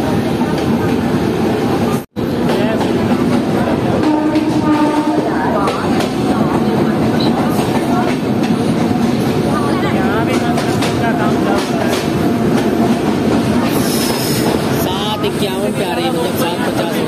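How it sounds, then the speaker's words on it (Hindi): The Vaishali Superfast Express rolls fast into Khagaria Junction, heard as a loud, unbroken rumble and rattle of wheels and carriages from close by, with a brief dropout near the start and a voice faintly under the noise. "काफी रफ्तार में प्लेटफॉर्म पे ले रही है अपनी ट्रेन।"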